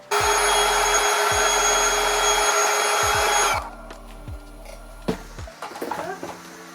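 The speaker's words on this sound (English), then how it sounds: "we'll see how we go, inflating it" An electric pump inflating a camping inflatable, a loud steady motorized whir for about three and a half seconds that cuts off abruptly, followed by soft scattered rustling and handling sounds.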